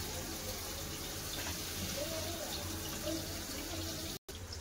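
Water is poured into a pot of browned meat curry with potatoes, a continuous close splashing rush that cuts off briefly near the end, with no talking.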